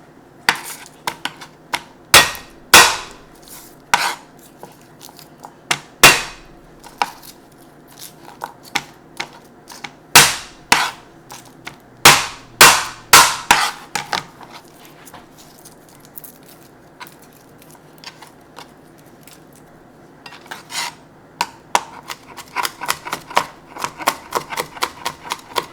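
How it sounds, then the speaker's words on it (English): A knife chops a shallot on a board in quick clusters of sharp, close taps, broken by pauses and a long quiet stretch before rapid chopping resumes. "I'm closing my eyes as I cut this shallot"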